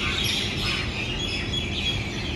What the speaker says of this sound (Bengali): এত সুন্দর পাখির ডাক